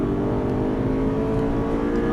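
An Aston Martin Vantage on the Dreux circuit accelerates hard, its engine note loud and steady throughout with dense harmonics, close and continuous with no speech.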